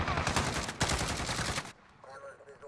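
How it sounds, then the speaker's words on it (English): Dense rapid automatic gunfire from an M4 rifle in Call of Duty Modern Warfare multiplayer roars continuously and loud, then cuts off abruptly into quieter game ambience. "Why are you shooting my body?"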